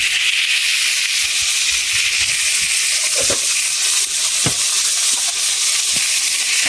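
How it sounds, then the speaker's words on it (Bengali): Cucumber and potato sizzle and fry loudly in a pan with a constant, dense hiss, broken by a few soft knocks from stirring. "এবার নেড়ে চেড়ে ভালো করে শসা আর আলুটা ভেজে নেব"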